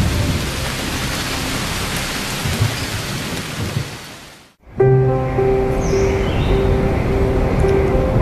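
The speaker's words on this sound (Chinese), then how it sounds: "每年的夏秋季节，雷雨天会不断。" Heavy summer thunderstorm in Hong Kong: steady loud rain hisses throughout, broken by a sudden cut and then a deep thunder rumble with rain continuing.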